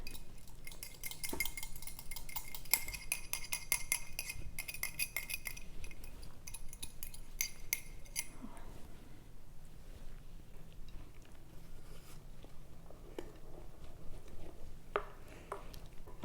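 Beaten eggs poured into a corn casserole mixture and stirred in a bowl, with a run of rapid clinking and scraping of utensil against the dish early on, then softer intermittent stirring and occasional taps.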